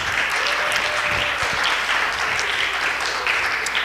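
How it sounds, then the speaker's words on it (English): A crowd applauds the judges at the close of a pitch competition evening, with steady, dense, sustained clapping that fills the space and no clear speech. "Everyone give them a round of applause."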